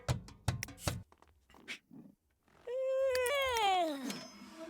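A pet cat in The Sims 3 video game gives a long, rising and falling meow after a few short clicks and soft game sounds, loud and close.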